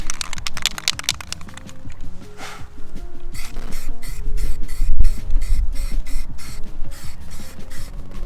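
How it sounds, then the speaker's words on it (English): Spray paint hisses in repeated short bursts onto a taped-off curb for address numbers, the pulses crisp and close with brief gaps between them. "Go ahead and spray it down."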